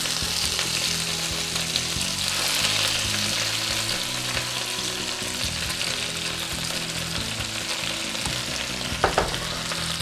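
Spinach and garlic fry in a pan, giving a steady, close crackling sizzle throughout with a few faint clinks of stirring near the end.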